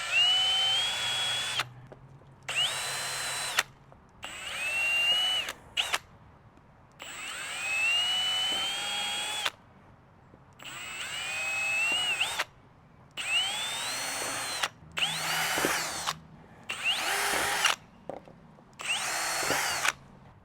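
Power drill driving short screws to fix PVC end caps onto a garden bed hoop house frame, repeated whirring bursts that rise in pitch, with short quiet gaps between them, loud and close with no talk.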